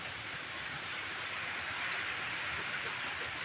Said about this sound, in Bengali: দেখো বৃষ্টিটাও সেরকমই হচ্ছে